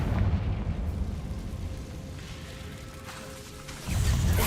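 The Confringo fire spell from the video game Hogwarts Legacy goes off in a booming, rumbling blast. Its deep roar fades gradually, then a second heavy burst swells near the end.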